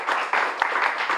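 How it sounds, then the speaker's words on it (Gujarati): Audience applause for seniors at a Gujarati stage show, a short burst of clapping in uneven pulses that stays moderately loud throughout. "એક વખત જોરદાર તાળીઓ આપણા બધા જ સિનિયર્સ"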